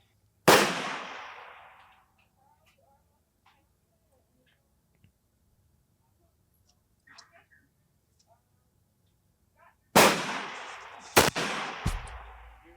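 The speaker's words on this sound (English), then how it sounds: "I'd say they're shooting at a pretty good cadence" Rifle shots crack at a 1,000-yard shooting match, one loud report followed by a long quiet stretch, then a few more sharp shots with decaying echoes near the end.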